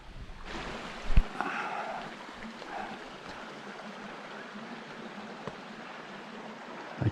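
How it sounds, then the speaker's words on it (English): A brook at Emma Gorge in the Kimberley flows with a soft, steady watery rush, fairly faint and continuous, with a few scattered thumps and footsteps nearby and no talking. "You can hear that brook."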